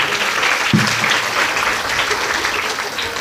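Audience clapping at a Hindu devotional discourse on the Shrimad Devi Bhagwat Katha, a loud, steady burst of applause filling the room with a brief low thump near the start.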